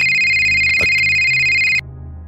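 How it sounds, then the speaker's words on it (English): A phone ringtone plays as steady, bright, sustained electronic tones for nearly two seconds, then cuts off abruptly, leaving low background hum. "that's when my phone rang"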